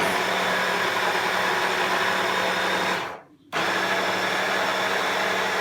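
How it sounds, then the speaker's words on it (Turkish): A kitchen mixer whirs steadily as it grinds leftover cake, a loud continuous buzz that cuts out briefly for a moment and then resumes at full strength. "ilk önce kalan keklerimizi mikserde geçiriyoruz."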